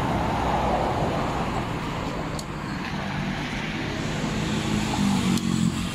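A used Kawasaki Z300 motorcycle engine runs at a steady idle close by, a low, even rumble that continues for several seconds with no one talking.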